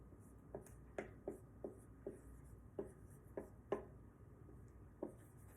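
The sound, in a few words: writing on a whiteboard with a marker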